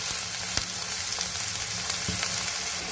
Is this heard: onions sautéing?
yes